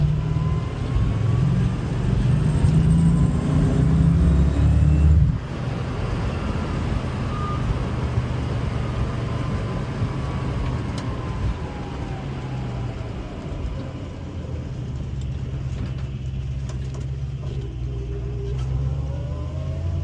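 Paxton-supercharged 1966 Shelby GT350 carryover car cruising with a steady, close engine rumble throughout, a louder throaty stretch at the start easing off after about five seconds, no talking.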